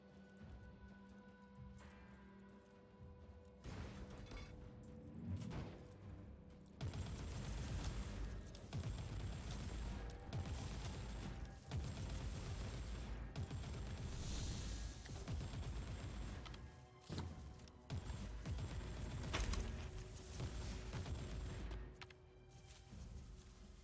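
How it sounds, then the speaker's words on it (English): Heavy Hellstorm frag grenade blasts in a Warhammer 40K game, dense rumbling booms and crackling bursts stacking into a continuous barrage that runs loud for most of the stretch. "so that's like a big big frag grenade or something. The Hellstorm."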